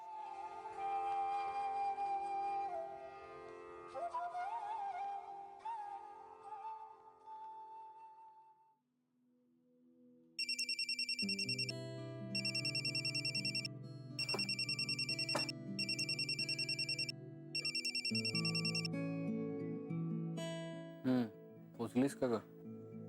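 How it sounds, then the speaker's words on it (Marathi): A telephone ringtone sounds in repeated bursts, fairly loud and close, indoors during a Marathi TV serial scene, after a stretch of music and a short pause. "मला एक फोन करायचा आहे अर्जंटली"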